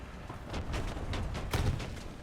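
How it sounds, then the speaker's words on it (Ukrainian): Rapid machine-gun fire in the tank game War Thunder: a dense run of sharp, close bursts and cracks over a steady rumbling battle din, with no talk. "Щось якісь кулемети, але не літаки наче."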